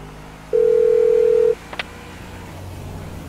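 A speakerphone dial tone in Grand Theft Auto 5 hums as one steady one-second tone, followed by faint clicks and a low hum, with no talking.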